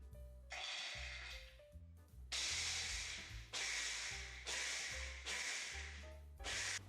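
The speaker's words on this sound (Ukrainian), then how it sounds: "В блендері перебиваю мигдальні горішки." A motorized blender grinds almonds in repeated bursts, loud whirring pulses separated by brief pauses, close by with no talking.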